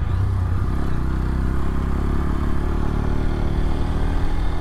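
A Bajaj Pulsar N125 motorcycle engine hums steadily at a constant pace, with a low throbbing drone and light clatter, close and continuous as it rides along.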